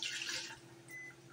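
Fruit juice pours into a pitcher for fruit tea, a faint brief splash and trickle of liquid that fades quickly into quiet.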